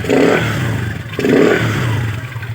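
A carbureted Kawasaki Fury motorcycle engine revs twice in quick bursts, each blip rising sharply then settling back to a rough, clattering idle, close and fairly loud.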